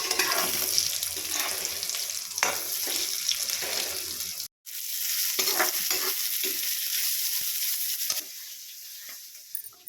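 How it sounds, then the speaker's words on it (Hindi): Oil heats in a pan for frying, giving a steady, fairly loud sizzling hiss with scattered crackles, briefly cut off partway through before resuming. "यहाँ पे तेल हमारा अच्छे से गर्म हो रहा है"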